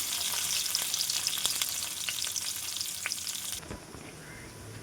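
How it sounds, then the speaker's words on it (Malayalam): Chopped ginger, garlic and green chilli fry in hot oil for a pickle, giving a dense, close sizzle with scattered pops that drops away abruptly near the end. "ഇഞ്ചി വെളുത്തുള്ളി പച്ചമുളക് ഇതൊന്ന് ചെറുതായിട്ട്"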